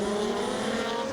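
A drift car launches hard off the start line at a British Drift Championship Pro Top 16 battle, its engine a loud, sustained high-revving drone with tire noise, steady and close throughout.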